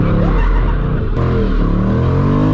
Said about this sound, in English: He about to do a couple of donuts.